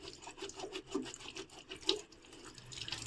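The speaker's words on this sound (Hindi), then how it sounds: "पानी जो डाल रही हूँ यार" Water is poured onto soil: faint, soft splashing and trickling with a few irregular gurgles and drips, heard at low level in the background.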